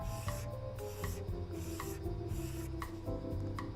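A slightly bent razor blade scraping the lacquer finish on a handmade acoustic guitar, a close, steady rasp in repeated short strokes, no talk.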